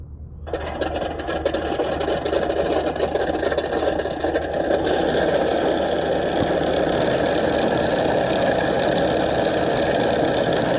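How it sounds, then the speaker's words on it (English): An E-Flite Carbon Z T-28 model warbird's motor starts abruptly after a brief pause, then holds a loud, steady, buzzing whine with a fine raspy edge, close to the listener. "Carbon Z T-28 clear for engine start."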